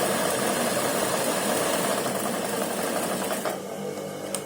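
An electric sewing machine stitching a soft, slippery linen kurti fabric, a close steady whirring drone with a brief slowdown and stop near the end.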